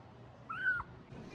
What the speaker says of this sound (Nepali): कति म्याउ म्याउ गरेको हो।